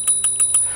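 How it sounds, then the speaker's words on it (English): The handlebar bell on a Turboant X7 Max foldable electric scooter rings four quick, evenly spaced bright dings, close up, with nothing else heard. "over on the left-hand side, you have your bell, and it sounds like this."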